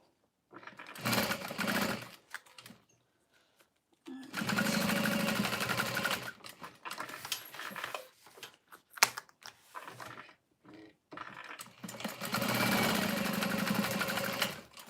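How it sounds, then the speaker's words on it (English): A sewing machine stitches together the sides of fabric pouches in three long runs of steady mechanical whirring, broken by quiet gaps and short bursts of handling and clicking. "all of those sides are sewn together"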